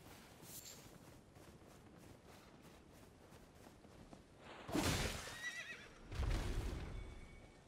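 A horse whinnies twice in quick succession in the video game Elden Ring over a steady background hum, the calls loud and bright against the quieter bed of sound.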